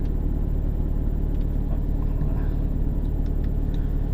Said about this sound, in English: so the car's loud. Even when I'm not even moving or doing anything